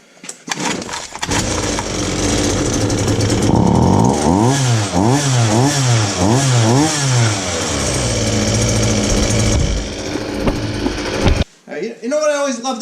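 A small folding scooter's petrol engine, choke on, catches and runs loudly with rhythmic revving surges, settles to a high buzzing idle, then cuts off. Brief talking follows at the end.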